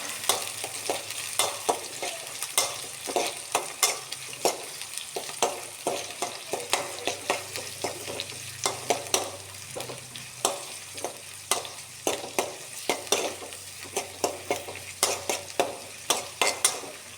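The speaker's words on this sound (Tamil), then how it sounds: "நம்ம நறுக்கி வச்ச வெங்காயம் ப்ளஸ் பச்சை மிளகாயும் உள்ளே போட்டுடலாம்" Chopped onion and green chilies fry in a pan for an onion tamarind kuzhambu, a steady close sizzle broken by regular rhythmic scrapes and clacks of a spoon stirring through the mixture, with no talking.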